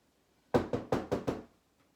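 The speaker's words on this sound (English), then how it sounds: "perhaps I'll try and knock again." Five firm knocks on a door in an even, quick rhythm, close and clear, with quiet before and after.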